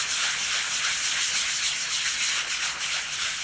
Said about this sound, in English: that means it's sanding really quick, which is what you want